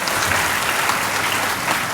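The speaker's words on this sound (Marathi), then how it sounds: "जोरदार टाळ्या शिक्षकांसाठी वाजल्या पाहिजे" Loud, dense audience applause for teachers at an honors ceremony for meritorious students of Kopargaon taluka, held at Sanjivani, sustained evenly for the full two seconds with no speech over it.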